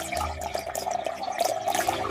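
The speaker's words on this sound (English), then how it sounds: "Fill the glass with cold water." Cold tap water pouring into a kitchen drinking glass, a steady splashing stream with bright, rising gurgles over about two seconds, close and alone.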